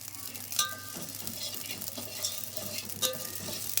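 Whole spices such as cinnamon and cardamom roast in a pan, with light scraping stirs and a few sharp clinks over a faint, steady sizzle, close by and without talk.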